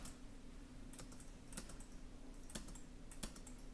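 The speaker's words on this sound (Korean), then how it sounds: "근데 내가 스페이스 키 써볼게요." Computer keyboard keys, including the space bar, are pressed during 3D modeling work, with a few soft, sharp clicks spaced about a second apart over quiet room tone.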